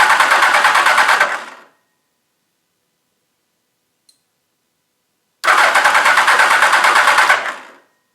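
The starter of a 1999 Gen 1 Suzuki Hayabusa motorcycle cranks the engine over in two loud, close bursts of rapid rhythmic churning, each about two seconds long, separated by several seconds of silence, without the engine catching.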